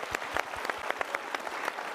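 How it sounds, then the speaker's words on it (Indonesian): Studio audience applause at a motivational talk show, a soft, steady patter of many hands with individual claps and low thumps standing out, fairly quiet and with no speech over it. "Boleh berikan tepuk tangan sekali lagi?"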